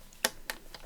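Paper trimmer slicing a score line off a strip of card, giving three short crisp clicks spaced about a quarter second apart, close and fairly quiet.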